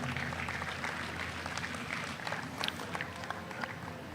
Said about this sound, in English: I want to give all the exhibitors a big round of applause